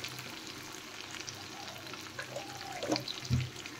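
Spice masala with chili powder, green chilies and salt is fried and stirred in a pan, a soft steady sizzle broken by occasional scraping strokes near the end, with no voice.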